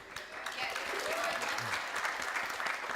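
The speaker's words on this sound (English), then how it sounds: "I think a round of applause for Lara Sawaya." Steady, dense audience applause at an international education and training conference, sustained and fairly soft throughout with a few voices faintly mixed in.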